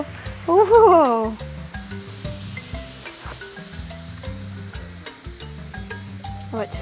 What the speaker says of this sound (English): Oh, it's fizzing.